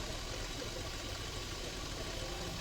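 Water trickling out of one side of a large tractor tyre as air is pumped in, a constant soft watery rush throughout with a small bump at the very end.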